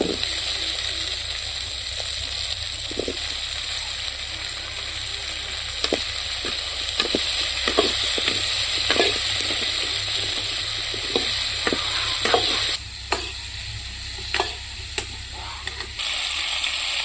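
Tomato and drumsticks stirred and fried in a pan for drumstick soup, a steady sizzle running throughout with repeated sharp clinks and scrapes of a spoon against the pan, close and fairly loud.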